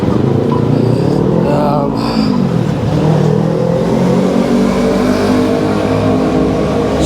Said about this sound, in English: Just wait for that noisy motorcycle to go past.